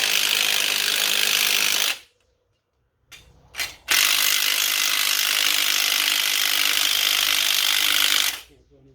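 Ratchet cranking during brake work on a Pontiac Vibe: two long bursts of dense, steady clicking with a short pause and a couple of brief clicks between them, close and fairly loud.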